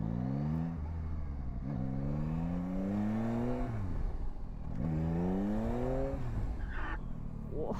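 A Yamaha Tracer GT motorcycle engine in a video game revs up and down in repeated rising sweeps, loud and continuous, with no voices.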